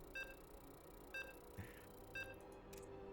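StarCraft II game-start countdown beeps sound in a regular series, three evenly spaced short tones about a second apart, clean and fairly prominent over quiet background.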